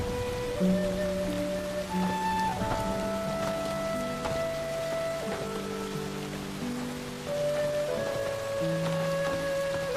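Light rain falling in a period-drama scene, a continuous soft patter of drops spread evenly under sustained musical tones.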